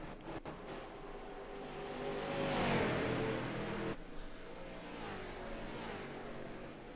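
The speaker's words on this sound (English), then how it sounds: "letting you hear the sights and the sounds of these machines rolling around the Richmond International Speedway" A race car engine in the iRacing video game roars past at Richmond International Speedway, swelling to a loud peak then shifting pitch and droning on as the car moves away.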